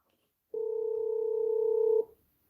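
A telephone dial tone sounds during a call-in radio show. One steady, clean tone starts suddenly, holds for about one and a half seconds, then cuts off, with near silence before and after.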